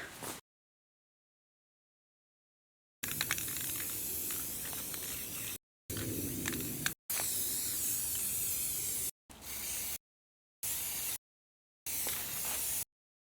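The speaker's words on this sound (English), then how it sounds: "I had just enough spray paint." A spray paint can hisses in several bursts of differing length separated by silences, close and steady, one long spray followed by shorter ones.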